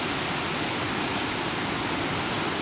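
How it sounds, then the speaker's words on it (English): High water piles over Topcliffe Weir on the River Swale in late October, a loud, unbroken roar of rushing, churning water close by with no voices. "a fair amount of water piling through here"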